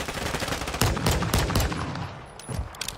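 Rapid bursts of automatic gunfire ring out in a Battle Royale video game, loud and close. A dense volley runs through the middle, followed by a shorter burst near the end.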